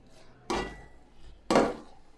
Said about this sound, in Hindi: इसको अच्छी तरह इसके ऊपर मिक्स कर लेंगे